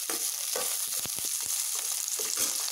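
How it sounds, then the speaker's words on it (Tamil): Onions with green chillies, mustard seeds and curry leaves sautéing in hot oil for a Tamil okra pepper fry, a steady close sizzle broken by scraping stirs of a spoon, with no talking. "அப்புறம் வெங்காயம் நம்ம சேர்த்துக்கலாம். நல்லா வதக்கிக்கலாம் ஒரு 2 நிமிஷம்."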